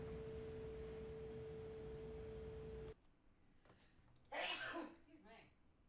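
A single short sneeze heard during a paranormal investigation, following a steady electronic tone that cuts out abruptly partway through, with quiet room sound around it.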